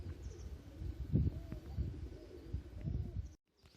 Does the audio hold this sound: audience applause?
no